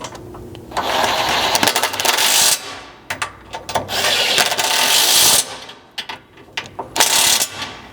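A ratchet wrench tightens the front and rear bolts of a gas tank skid plate on a Ford Ranger, giving bursts of rapid mechanical clicking with short pauses between strokes.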